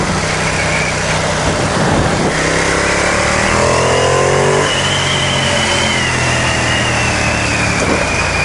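A Ducati XDiavel S motorcycle engine revs hard during a wheelie at about 60 km/h, its loud rising engine note close and steady over heavy wind rush, with a gear change partway through.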